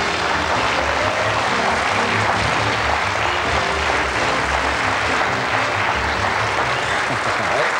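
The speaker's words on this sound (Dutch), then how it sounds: "Een warm applaus voor Ben Kramer." Warm studio audience applause on a 1995 Dutch television show, a dense, steady wash of clapping that stays loud and even throughout with no pauses.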